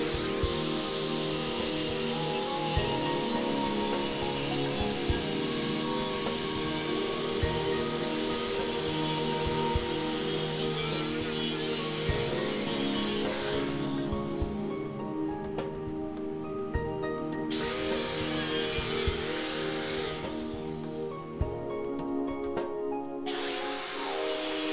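A power tool grinds steadily into a pink ultrathin 20,000mAh power bank, a loud, continuous abrasive whine with rough scraping texture that briefly eases twice before resuming, no talking.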